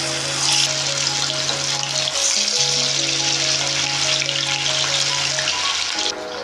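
Chicken wings frying in hot oil in a kadai, giving a steady, close, loud sizzle and crackle throughout, with a faint background tone underneath and no talking.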